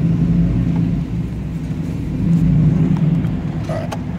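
A GMC Yukon with a straight-pipe exhaust gives off a loud, deep, rumbling engine drone heard close up. The drone swells twice as the engine is revved, with no talking over it.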